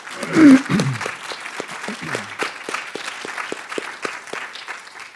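Audience applause at a dietary guidelines advisory committee meeting in Houston, a steady crowd clapping that begins with a louder burst and continues evenly, with a voice briefly heard near the start.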